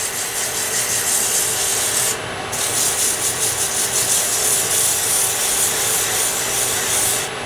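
Sandpaper rubs back and forth on wood near a metal bushing, a loud close scratching with a brief pause partway through and no speech.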